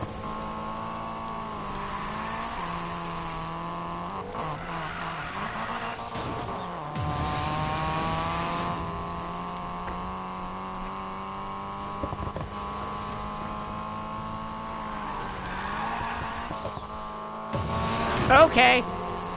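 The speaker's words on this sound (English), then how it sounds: "I was drifting around you." Engine drone and tire-screeching drifts in the racing game Need for Speed Payback on PS4, a steady revving car sound with sliding swells, under intermittent talk from a player.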